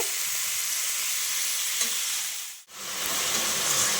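Mutton tripe fries in a pan with a constant, dense sizzle and stirring, releasing water as it cooks; the hiss cuts out abruptly for a split second midway, then resumes at full strength.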